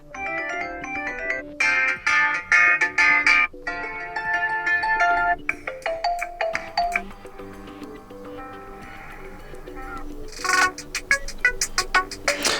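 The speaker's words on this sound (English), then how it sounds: "Let's listen to some of the preset ringtones and select one." A series of preset phone ringtones on a ZTE Blade 10 Prime plays one after another, bright synthetic melodies and chimes, each sample starting and stopping with short gaps.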